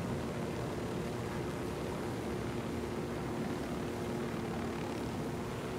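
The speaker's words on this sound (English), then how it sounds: "It looks like a plane over there." Steady broadband drone of an airplane flying overhead in Ghost Recon Wildlands, a constant distant engine hum with no talk over it.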